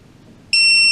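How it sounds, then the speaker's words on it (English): A Hubsan Zino drone remote controller sounds a loud, steady electronic start-up beep that begins abruptly midway and holds to the end, after a quiet, near-silent stretch. "Press and hold until you hear the beep."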